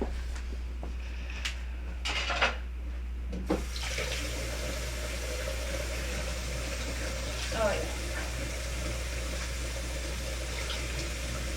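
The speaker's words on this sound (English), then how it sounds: "I'm gonna go flush my eye really quick." Tap water running into a sink while an eye is flushed, a steady close splashing stream with a few knocks and clatters early on, and no speech.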